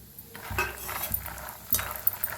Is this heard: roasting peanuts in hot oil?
yes